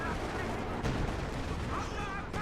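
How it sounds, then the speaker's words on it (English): Anti-tank overwatch fire strikes a Panzer IV in a video game, with rumbling gunfire and explosions under continuous commentary. A heavier impact lands near the one-second mark. "Now it's going to be hit by the anti-tank Overwatch."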